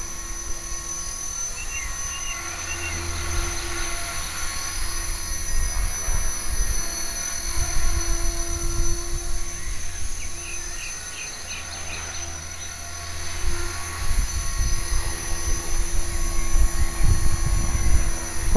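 An HK 450 RC helicopter hovers outdoors in wind, its steady high rotor and motor whine continuous and moderately loud over gusty low rumble throughout.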